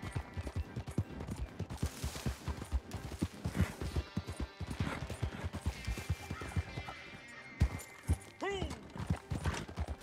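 Horse hooves clip-clop in a steady gallop in Red Dead Redemption 2 online, heard under someone talking, with game sounds and a brief whinny-like sweep near the end.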